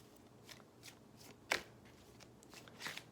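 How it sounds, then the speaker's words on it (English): Tarot cards are shuffled by hand in a series of soft riffles and slides, with one sharper snap near the middle and a louder burst toward the end, close and quiet with no talking. "Having to shuffle longer today than I usually do."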